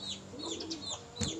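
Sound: pigeon cooing

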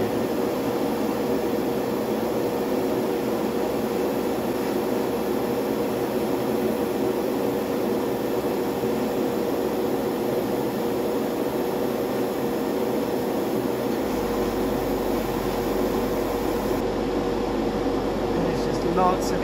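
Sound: airbrush spraying paint

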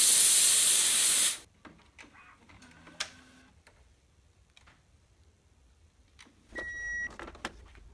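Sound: steam bath cleaning Epson printhead

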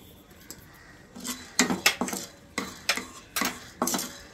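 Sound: cumin being added and dry roasted in a pan

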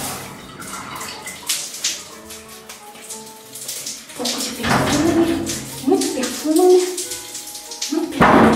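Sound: bath water running, pretend bath

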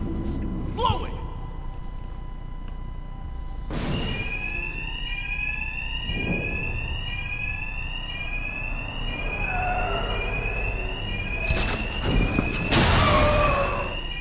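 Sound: alarm ringing in video game Batman Arkham Knight

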